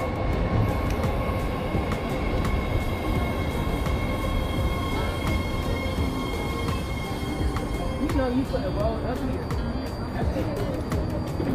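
A BART blue line train at Fruitvale station, a steady loud rumble of the railcars with faint squeals and clicks, and a tonal chime or announcement-like band near the end.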